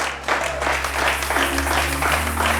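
A church congregation applauding and cheering the Lord, dense clapping and cheers filling the room, loud and sustained over a low hum.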